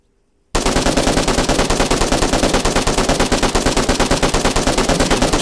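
An RPK 545 machine gun from the Global Mobilization game mod fires one sustained full-auto burst after a brief silence, a loud, rapid, even stream of shots with no talking.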